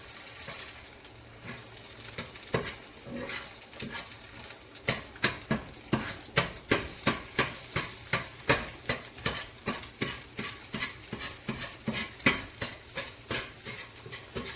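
Eggs and chorizo scrambled and stirred in a Lodge cast-iron skillet, a steady run of scraping, tapping strokes over a soft sizzle, close by and growing more rhythmic as it goes, no talk.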